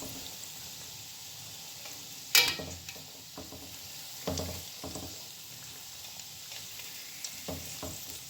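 Chicken donuts frying in oil in a pan, a steady soft sizzle broken by several louder bursts of crackling and spatter, with occasional stirring sounds and no talk.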